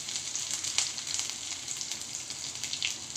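Cumin seeds, ginger paste and two green chillies sizzle in hot oil for a moong dal and bottle gourd dish, a steady, fairly quiet crackle with small pops and no talking.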